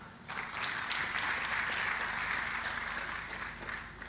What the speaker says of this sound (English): Round of applause for Ana.